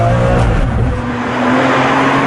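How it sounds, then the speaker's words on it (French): Ferrari Enzo V12 with a sequential gearbox, throttle pressed: a loud, close engine roar surges and climbs in pitch over a couple of seconds, with a slight dip midway. "Une pression sur l'accélérateur et la fête commence."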